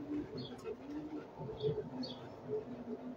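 Pigeons cooing in a fancier's loft, a cross-bred pair kept for show, soft low repeated coos rolling on through the whole stretch with a few faint higher chirps, close and moderately loud.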